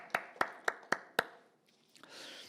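Church congregation clapping in praise at a Korean healing service: five sharp, evenly spaced claps, then a brief hush and faint rustling noise.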